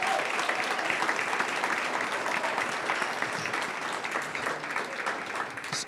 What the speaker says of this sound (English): I think we must give him a round of applause for that.